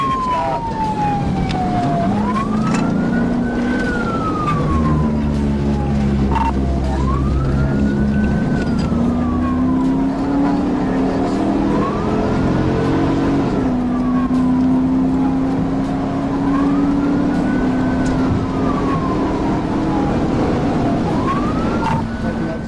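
A police car siren wails continuously and loudly up close, its rising and falling tone repeating steadily over the rumble of the running car during a high-speed chase.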